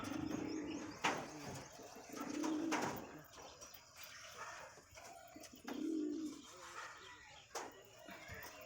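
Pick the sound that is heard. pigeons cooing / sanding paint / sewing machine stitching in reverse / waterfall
pigeons cooing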